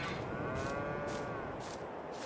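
Cows in the Farming Simulator video game let out a long, drawn-out moo over a steady farm ambience. The sound is clear and fairly close, with no talking.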